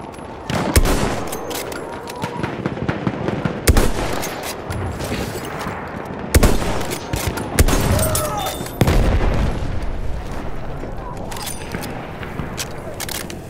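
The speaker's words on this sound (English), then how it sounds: "Enemy machine gun over there!" Rapid bursts of machine-gun fire and scattered gunshots in a Battlefield 1 battle in a World War I desert setting. They crack repeatedly over a constant din of combat, with occasional loud booms.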